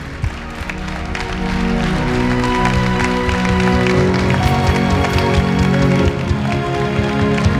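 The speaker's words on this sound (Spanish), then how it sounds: "vamos a recibirlos con un gran aplauso para seguir con el acto" Audience applause at a VOX party candidacy presentation in Villacarrillo, steady crowd clapping that builds and stays loud, with music or voices mixed underneath.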